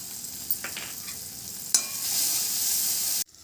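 Spices with chopped tomato, salt and cumin powder sauté in a pan with a quiet, steady sizzle, broken by a few sharp stirring scrapes. The sound stops abruptly at the end.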